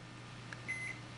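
A microwave oven with tinfoil inside runs with a low steady hum, a short beep and a thin high whine riding on top.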